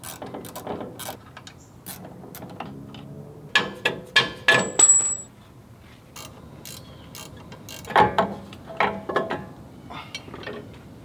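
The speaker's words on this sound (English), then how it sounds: "So what I'm removing now is the shock tower bolts." Shock tower bolts being removed on a fifth-generation Toyota 4Runner during a suspension install, giving bursts of close, loud ratcheting and metallic clicking in clusters separated by short pauses.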